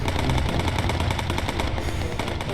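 Messerschmitt fighter gunfire in the Bomber Crew video game, a rapid, evenly spaced stream of loud machine-gun shots that runs without a break.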